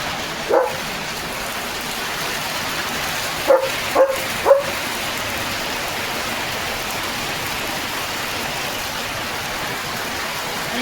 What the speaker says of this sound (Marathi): लिओ पावसाला भुंकवतोय